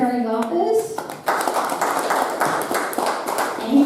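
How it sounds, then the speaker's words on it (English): Studio audience at a county jailer debate breaking into applause, a steady wash of clapping filling most of the clip after a brief voice at the start. "How about a round of applause?"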